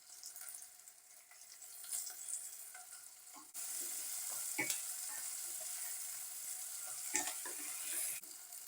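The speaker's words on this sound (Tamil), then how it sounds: "வெங்காயம் கொஞ்சம் நல்லா லைட்டாக வதங்கி வரட்டோங்க" Sliced onion, curry leaves and a green chilli with a pinch of salt sauté in a pan, giving a faint, steady sizzle broken by scattered stirring scrapes and taps.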